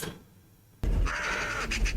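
A crow-like bird caws suddenly in a horror visual novel game, a loud, harsh cackling burst that breaks a near-silent ambience and rings out over a short stretch.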